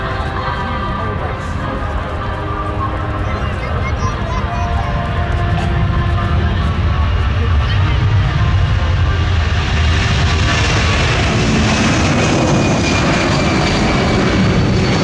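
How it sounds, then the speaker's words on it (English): Four large aircraft engines spool up on a West Coast aircraft preparing for takeoff at an Oshkosh, Wisconsin air show, a loud, steady roar that swells and brightens partway through, with crowd voices faintly underneath. "most of those 4 giant engines spool up as the West Coast MOT prepares for takeoff"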